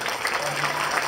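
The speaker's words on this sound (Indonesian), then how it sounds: "Beri tepuk tangan buat kelas 1B." A brief burst of applause for class 1B at a school madrasah opening ceremony, busy clapping from a crowd, with a faint voice mixed underneath.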